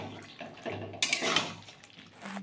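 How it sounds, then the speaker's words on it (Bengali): Small deshi mourala fish dropped into a pan of boiling curry broth for a Bengali chochchori, a brief sizzling splash surging up midway among soft bubbling and clinking kitchen noises. "তো ঝোলটা ফুটে ওঠার পর আমি মাছটা দিয়ে দিলাম।"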